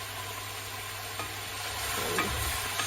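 Steady soft sizzle of salmon frying in a pan, a low constant hiss with a faint stir or scrape near the end, no voices.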